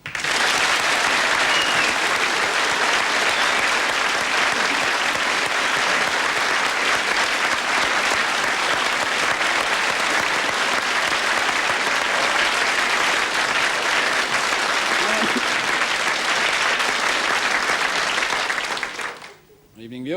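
A large audience breaks into loud, sustained applause to welcome Paul Hogan onto a celebrity roast stage, a dense unbroken wash of clapping lasting nearly the whole stretch before cutting off abruptly at the end.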